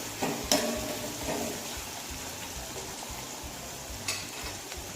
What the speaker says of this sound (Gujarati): ડુંગળી ગોલ્ડન બ્રાઉન થાય એટલે સમારેલા ટામેટા એડ કરી હલાવી દઈશું